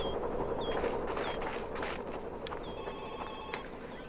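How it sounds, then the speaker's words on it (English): A telephone rings in the video game My Winter Car, a repeated electronic trill sounding in short bursts over a steady background hum, fairly close and clear. "Phone's ringing, phone's ringing, phone's ringing, phone's ringing, shut up."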